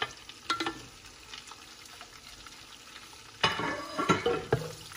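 Sliced onion and garlic cook gently in butter over very low heat, giving a soft steady sizzle with a few louder stirring scrapes and clatters near the end.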